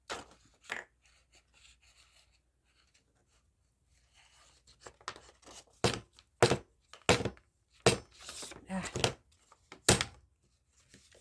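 A jammed handheld paper punch is forced and worked loose in a craft setting, giving a run of sharp, loud clunks and snaps in uneven bursts after a quieter start with faint scratching.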